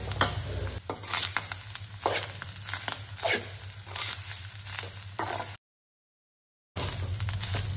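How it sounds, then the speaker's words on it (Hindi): Onion and coconut fry in a pan for a Goan dry prawn dish, a close steady sizzle broken by stirring scrapes and rustles, with a brief silent gap near the end. "हमारा ओनियन हो गया है फ्राई। अब हम इसमें डालेंगे कोकोनट।"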